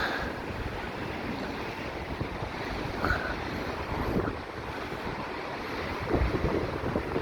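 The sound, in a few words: strong cold wind and waves on Blackpool promenade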